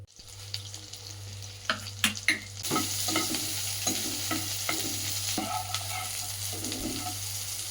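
Soybean chunks hit hot oil in a wok and set off a loud, steady sizzle, with a few stirring clacks near the start.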